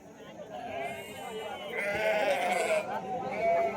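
Sheep and goats bleat in a busy outdoor livestock market at Loni, Maharashtra, with several animal calls overlapping people talking nearby.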